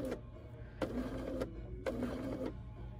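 Sewing machine over-sewing a blouse seam: two short runs of rapid stitching buzz, each under a second long, rising over a constant low motor hum.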